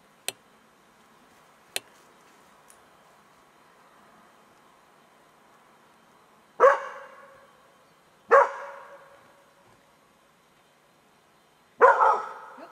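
A dog during a behaviour assessment gives three sharp, loud bursts spaced a few seconds apart, preceded by a couple of faint clicks in an otherwise quiet setting.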